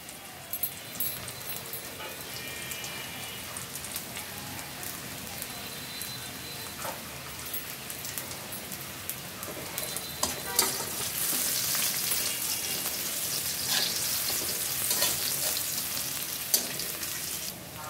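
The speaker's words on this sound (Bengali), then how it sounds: "দেখো, পেঁয়াজটা ভাজা হচ্ছে" Onion frying in a pan with turmeric, garlic and green chilli paste nearby, a constant close sizzle with occasional stirring scrapes, growing louder and crackly toward the end.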